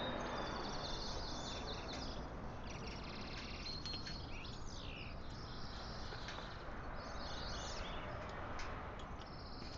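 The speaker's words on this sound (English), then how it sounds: "Now we hear nice birds." Birds chirp and twitter outdoors in fine weather, scattered high calls repeating over a steady rushing background noise, moderately distant, with no talking.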